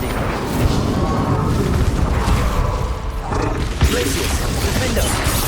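An Incendio fire spell is cast in Hogwarts Legacy combat: a loud dense whoosh and rumble with mechanical creaks and a thump, continuous throughout.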